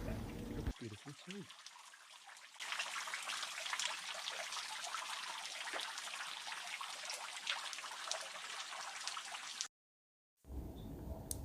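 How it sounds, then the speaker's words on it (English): Water trickles from a small waterfall into a tiny stream in Hastings, East Sussex, a soft, continuous splashing hiss heard close, preceded by a brief rustle and interrupted by a short silent gap near the end. "The water just runs off into a tiny little stream."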